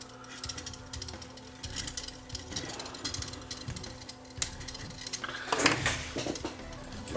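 A screwdriver working at the two screws holding the loading motor inside a Sony CCD-F401 8mm camcorder, with a close series of small metallic clicks, scrapes and rattles that grows busier toward the end.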